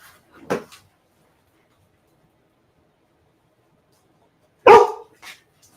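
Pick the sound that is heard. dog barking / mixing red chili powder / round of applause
dog barking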